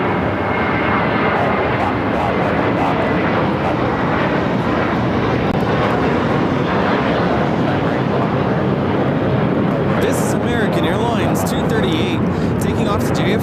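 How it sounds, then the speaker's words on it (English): A LATAM Boeing 767 bound for Lima, Peru, takes off from the south side at LAX, a loud, continuous jet engine roar under steady talk throughout. "Should be a south side takeoff coming up."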